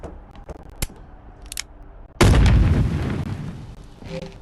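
Gunfire in a short film: a single loud, sharp blast bursts out after a few faint clicks and taps, then decays into a rumbling, noisy tail that trails off over the following seconds.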